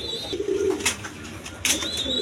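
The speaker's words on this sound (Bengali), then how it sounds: "দর্শক এইখানে এক পেয়ার ফ্লেজার কবুতর আছে, দেখেন ফ্লেজার কবুতর, জার্মানি ফ্লেজার" A pair of German Flazer pigeons gives a short burst of low cooing early on, with sharper chirping noises and a steady high tone sounding nearby.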